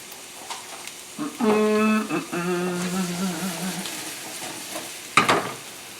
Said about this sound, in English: I'm going to put some diced up yellow onions in here